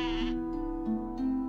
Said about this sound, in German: Ich habe auch diesen Bock hier.